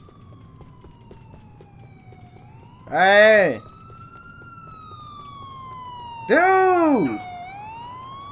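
Police car siren in Grand Theft Auto IV, a steady wailing tone running through the whole stretch, broken twice by loud shouted voices over it.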